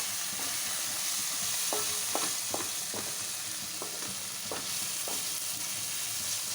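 Gongura and tomato curry frying in a pan, stirred with a utensil that gives scattered clinks and scrapes over a steady sizzle, close and moderately loud, with no talking.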